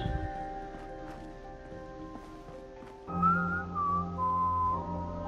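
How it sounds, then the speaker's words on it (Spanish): A game character whistles a short, wandering melody in Fallout 4, clear and close over a low ambient hum, with a few soft taps before the tune begins. "Silbando el muchachote."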